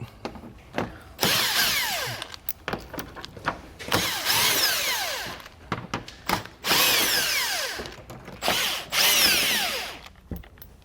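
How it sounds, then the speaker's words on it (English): A power tool driving a 10mm socket to remove the screws of a vehicle underbody panel during a hidden hitch receiver install, whirring in several bursts of about a second each with short pauses between, close and clear, with no talking. "We'll go ahead and remove those with a 10mm socket."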